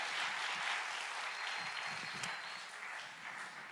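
A youth evangelism evening service audience claps together, a faint, distant wash of applause with no speech over it.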